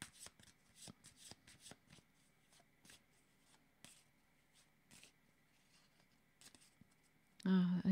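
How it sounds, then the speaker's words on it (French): Tarot cards being shuffled and drawn, a run of crisp riffling and slapping card sounds in irregular bursts, close and fairly quiet, followed by a short louder thump at the end. "Je vais demander une autre carte."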